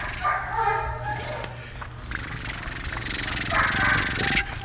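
A Dutch Shepherd guarding against two intruders gives rough, close barks and excited vocal bursts amid scuffling and background noise, the sound dense and fairly loud throughout.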